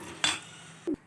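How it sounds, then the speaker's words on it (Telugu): A spoon scrapes and clinks against a metal pot while a melting jaggery and fruit-pulp mixture is stirred, with two short distinct knocks over a low steady background. "అడగంటకుండా కలుపుతుండాలండి."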